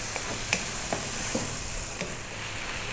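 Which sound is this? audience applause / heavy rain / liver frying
liver frying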